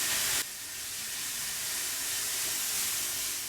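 Mushrooms and leek sizzling in butter in a frying pan, a steady broadband hiss that starts abruptly and holds evenly at moderate loudness with no talk.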